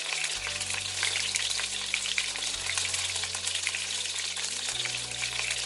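Garlic and green chili paste sizzle steadily in hot oil with asafoetida, a loud, continuous frying hiss with no talk over it.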